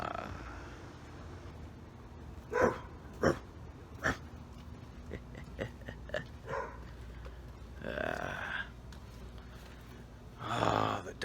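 A dog barks several times in sharp, separated bursts spread across the stretch, fairly close, with quiet breathy vocal sounds between them.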